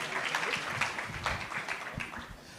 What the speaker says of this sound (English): you clap for us